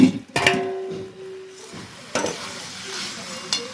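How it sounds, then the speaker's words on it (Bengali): Betki fish bones are stirred with spices in a pan, sizzling gently under sharp metallic scrapes of a spatula that come in a few distinct strokes. "ভালো করে পুরো নাড়াচাড়া করতে হবে যাতে পুরো কাঁটাগুলোর মধ্যে যাতে মশলাগুলো ভালোভাবে লেগে যায়।"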